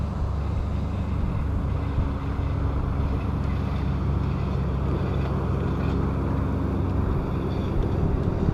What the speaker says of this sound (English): So the trolling motor works really good.